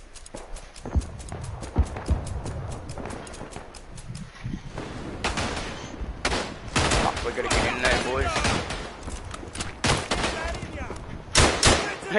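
Rifle and gunfire crackle in the World War I shooter Verdun: a rapid string of sharp shots at the start, then heavier bursts and booms over a busy battlefield din.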